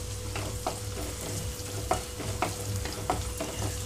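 Turmeric stirred into golden onions frying in a pan for okra fry: a steady sizzle with several distinct scraping stir strokes spaced about half a second apart, close and fairly loud, no talking.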